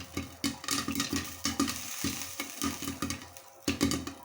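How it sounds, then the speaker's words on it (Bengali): Popcorn kernels fry in a pan, giving close, quick repeated pops and rattles in an irregular burst pattern over a faint sizzle, with no voices. "দেখো একটু কত সুন্দর ফুটছে।"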